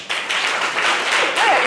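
A studio audience at a Christmas television game show applauds for children, with brief, dense, steady clapping at moderate loudness and a faint voice rising near the end.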